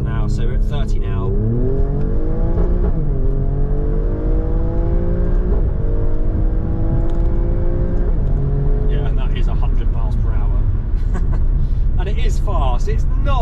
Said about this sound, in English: let's just go straight up to 100 miles an hour